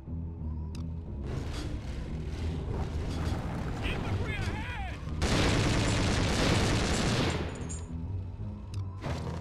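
Bursts of gunfire in the war game Conflict: Desert Storm, with sporadic shots early on followed by a dense, loud volley of sustained fire in the middle. Someone talks over parts of it.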